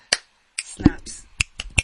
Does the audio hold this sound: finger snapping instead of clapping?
yes